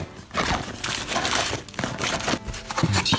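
A plastic bag holding the cables of a fully modular PC power supply crinkles and crackles continuously up close, in dense irregular bursts of rustling with no talking.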